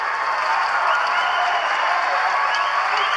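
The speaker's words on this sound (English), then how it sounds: "I hope you can get a sense at home of just how animated this crowd has become" High school boys basketball final crowd, Paulsboro versus Pitman, cheering and clapping in a dense, sustained roar that stays loud and constant throughout.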